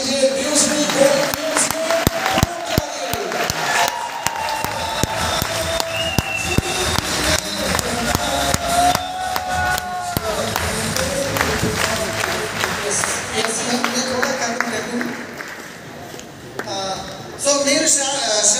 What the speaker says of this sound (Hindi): तो जोरदार तालियां स्वागत कीजिए ड्यूसली को